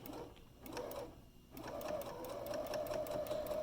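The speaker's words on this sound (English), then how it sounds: "So now we're going to sew down the rest of our bag" A sewing machine stitches down a drawstring bag, starting and stopping in short runs before settling into a fast, even, continuous whir of stitches close by.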